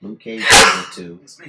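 A sharp sneeze bursts out near the middle, loud and close, between stretches of someone talking.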